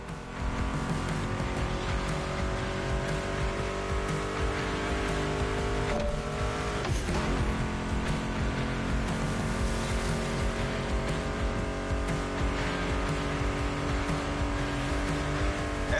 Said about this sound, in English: Meshes well with the sound of the engines